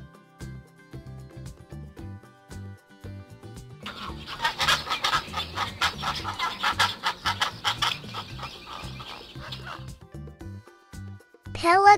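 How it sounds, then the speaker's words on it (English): A pelican makes a rapid, dense run of rough, clucking calls for about six seconds, loud and close, layered over gentle background music. "Pelican."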